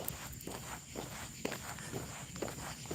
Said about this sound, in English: You hear the cicadas.